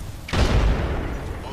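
A frag grenade explodes in a first-person shooter game, one sudden heavy boom with a rumbling tail that fades over about a second, close and loud.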